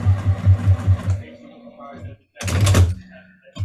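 A home sewing machine stitches along the edge of a fabric pot holder in two short bursts of rapid mechanical clatter, close by, with a pause between them and talk over the sound.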